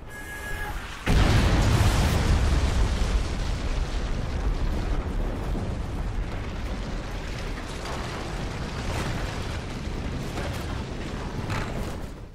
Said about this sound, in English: you can call in a killstreak called Chem Strike, similar to the nuke in Modern Warfare 2, that after exploding changes the layout